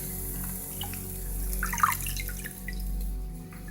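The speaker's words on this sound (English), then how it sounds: "Dropping them in the hot water." Dandelion greens, about eight large bundles, are dropped into a pot of hot water in a kitchen, giving a soft splash and bubbling drips against a steady background hum.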